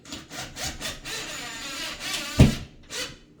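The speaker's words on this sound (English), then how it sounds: "I'm just going to use my drill, or my impact driver here" An impact driver whirs in short rhythmic bursts, grinding as a screw bites into a wall while mounting a towel rack, with a sharp thump near the end; close and fairly loud.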